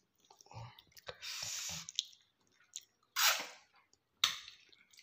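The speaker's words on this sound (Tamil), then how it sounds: "லெமன் என்னன்னா எடுத்து அப்படியே அழகா பைட் பண்ணி சாப்பிடணும்." A sour lemon is bitten into and chewed, giving wet, squishy bursts of juicy crunching in several separate bouts, close and fairly loud, with short quiet gaps between bites.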